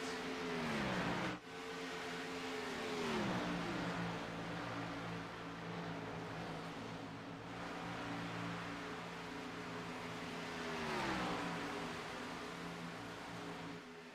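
Race cars lap a track, their engine tones rising then dropping in pitch as they sweep past at a distance, faint and continuous over a steady roar.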